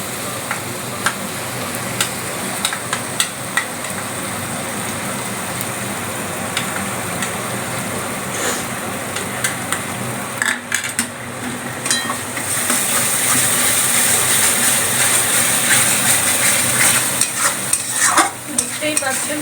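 Spice masala frying in a pan after ginger paste is added gives a steady hiss and sizzle with scraping stirring strokes, swelling louder partway through.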